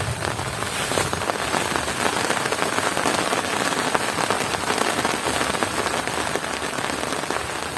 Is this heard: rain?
yes